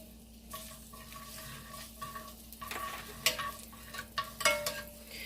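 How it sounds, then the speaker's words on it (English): Garlic cooking in a pan gives a soft, steady sizzle, with occasional light clinks and scrapes of stirring building toward the end, fairly quiet and close. "we're going to let this garlic cook first"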